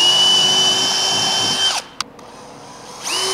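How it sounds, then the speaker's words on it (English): A power drill with a 1/8 inch bit bores a pilot hole during a steering kit install, whining steadily at high speed, stopping abruptly with a sharp click, then spinning up again. "I'm gonna take my 1/8 inch drill bit and drill a pilot hole."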